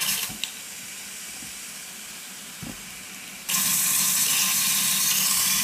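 Water hisses steadily, then a louder, brighter spray from a spray bottle misting a glass vivarium starts partway through and keeps going, close by with no talking.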